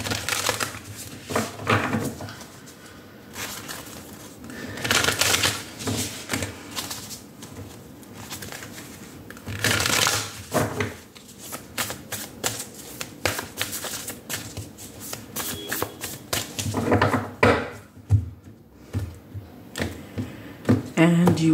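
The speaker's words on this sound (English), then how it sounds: "I'm going to take out one advice card from the Spirit Animal Oracle." Spirit Animal Oracle cards being shuffled and one drawn, with dense papery riffling and flicking bursts in irregular flurries, close and fairly loud, mixed with soft handling noises.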